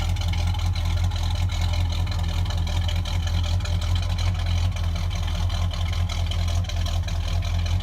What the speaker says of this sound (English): You can hear just that very healthy idle.